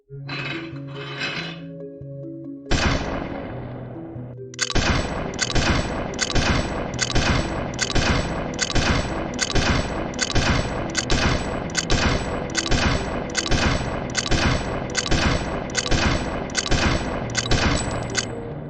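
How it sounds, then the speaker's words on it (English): An AK-47 rifle fires in fully automatic mode: a few separate shots first, then a long, even rapid burst of sharp cracks in quick regular rhythm, loud and close. "in fully automatic mode, the rifle keeps firing until the trigger is released or the cartridges in the magazine are over"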